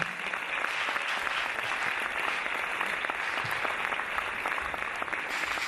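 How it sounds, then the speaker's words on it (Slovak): A large audience at an Ursuline sisters' anniversary celebration in Trnava gives a long, steady round of applause, a dense and even wash of clapping with no talk. "Veľký potlesk poprosím."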